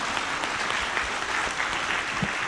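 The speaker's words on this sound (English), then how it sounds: "send a big applause for Mr. Didi." An audience applauds after a guest lecture on educational leadership, a dense, steady wash of clapping from many hands close by, without speech.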